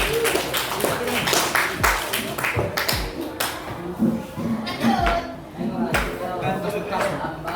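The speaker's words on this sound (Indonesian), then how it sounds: "beri tepuk tangan dulu buat Tina" A classroom of students applauds a classmate named Tina during a guidance lesson, irregular overlapping claps and taps mixed with chatter and voices across the room.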